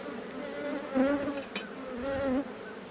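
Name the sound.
buzzing honeybees during hive check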